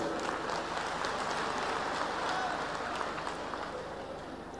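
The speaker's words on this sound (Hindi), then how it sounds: "जरा जोरदार ताली बजा दो" A crowd claps steadily and loudly throughout, a dense sustained round of applause with some voices mixed in, tapering slightly at the end.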